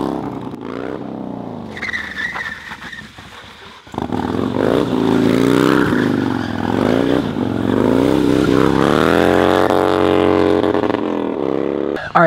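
A 2000 Harley-Davidson Dyna FXDX engine revs loud and close, rising and falling in pitch through several throttle blips over a steady rumbling idle, alone with no talking.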